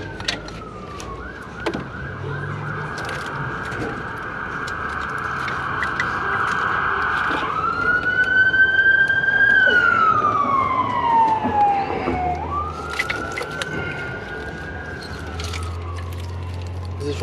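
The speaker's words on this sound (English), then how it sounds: "Here comes the ambulance." An ambulance siren passes nearby, wailing and sweeping in pitch, swelling louder then falling away, over background traffic.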